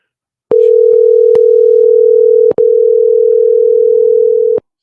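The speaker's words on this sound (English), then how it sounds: "Dial up her number. All right, we're calling Yola Papuga." Steady telephone dial tone, loud and continuous, broken by a brief click and gap partway through, placed while calling someone on a live phone-in radio show.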